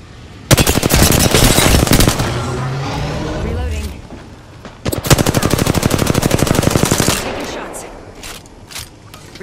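Rapid automatic gunfire from the video game Apex Legends rattles in two long, loud bursts of dense, evenly spaced shots, each lasting about three seconds, with brief pauses and scattered single shots trailing at the end.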